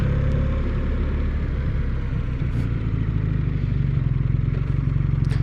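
A BMW R1300R motorcycle pulled over at the roadside, its engine running in a steady, close, low rumble with faint clatter throughout and no voices.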